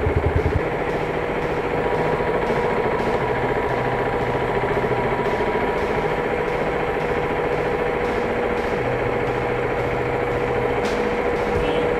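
A KTM RC 390 motorcycle engine runs steadily and close up, a continuous even drone that holds for the whole stretch with slight shifts in pitch, no talking over it.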